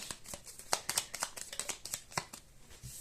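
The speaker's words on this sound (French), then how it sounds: "je regardais les cartes tomber en fait" Playing cards riffle and drop during shuffling, giving quiet, crisp flutters and light taps in an irregular run of bursts with no talking.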